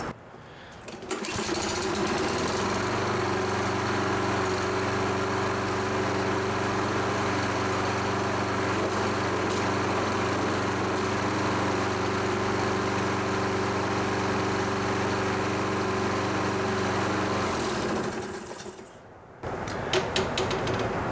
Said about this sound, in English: As we can see and hear, we're not over-revving the engine.